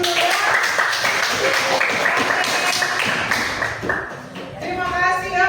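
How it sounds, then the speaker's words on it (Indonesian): A school classroom group at a junior high claps together after a presentation, a dense burst of hand clapping close by, mixed with talking voices. "tepuk tangan dulu ya"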